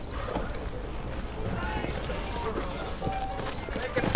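A horse's hooves clip-clop in a steady riding rhythm in the video game Red Dead Redemption, the sound of riding layered over busy in-game ambience and a few neighs, fairly loud throughout.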